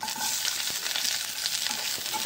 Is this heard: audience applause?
no